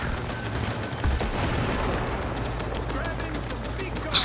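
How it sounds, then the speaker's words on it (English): Continuous automatic gunfire from a firefight in the video game Cyberpunk 2077: Phantom Liberty, dense, loud and rattling throughout, with game ambience beneath. "Just casually walk in and start shooting everybody."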